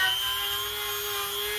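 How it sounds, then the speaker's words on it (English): A small Dremel with a wire wheel cleans rust off a bolt from a 2006 Honda Pilot's stabilizer bar link, giving a steady high-pitched whine under a rough, constant grinding hiss. "we're gonna take this little Dremel. Try to clean it up."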